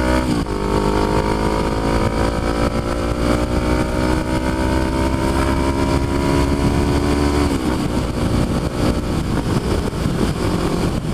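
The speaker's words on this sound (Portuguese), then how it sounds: "quero dar uma aceleradinha na pista pra sentir, né, velho" Honda CB500 motorcycle accelerating on a track, the engine loud and close throughout, pitch climbing steadily through a long pull, then a gear change and renewed revving with heavy wind roar.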